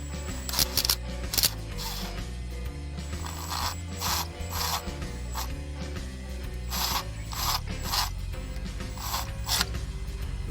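Ratchet wrench tightening thermostat housing bolts on an old Ford F250 with a 460 engine, repeated close clicking bursts with short pauses between strokes, alone without talk.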